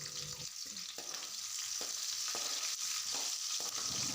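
Broad beans, cut onion and green chili fry in a pan with a steady close sizzle, punctuated by regular stirring scrapes about every half second to second.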